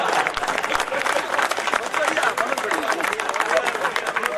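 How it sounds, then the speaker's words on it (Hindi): Audience at a Bundelkhand Hindi comedy poetry gathering breaks into continuous applause, a dense steady wash of clapping with murmuring crowd noise mixed in throughout. "मेरी पत्नी के सम्मान में कम से कम 2 सेकंड ताली आनी चाहिए।"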